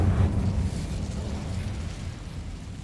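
The Incendio fire spell cast in Hogwarts Legacy gives a low, whooshing burst that flares at the start, then settles into a steady, muffled roar that fades slightly toward the end.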